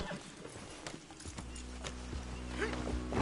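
Horse hooves clip-clopping in Red Dead Redemption 2, a steady run of hoof beats over a broad ambient backdrop, with occasional snorts and mutters from the horse.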